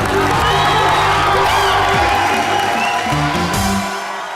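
Studio audience on an Indian comedy show cheers, whoops and claps loudly and continuously, a dense crowd roar with shouts rising above it and music tones underneath, easing off slightly at the end.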